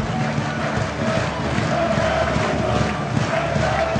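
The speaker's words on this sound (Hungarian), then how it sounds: "És büszkén tapsolhatnak a Vasas szurkolók." Vasas water polo fans in a Hungarian Cup final crowd send up a loud, continuous roar of applause and cheering, a dense wash of clapping and voices that holds steady throughout.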